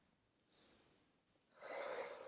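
A person breathing in and out during a therapeutic pelvis and lower back exercise, a soft inhale followed by a longer, louder exhale through the nose, close and alone.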